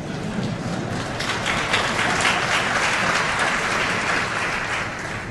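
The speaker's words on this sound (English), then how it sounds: "You can applaud if you want to, you don't have to." A conference audience applauds during a big data demonstration, a sustained, even roar of many hands clapping that swells slightly midway before easing off.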